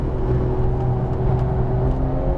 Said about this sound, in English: Pick back up on power, up a gear, full length in, and hard brake, downshift, and ease off, good entry.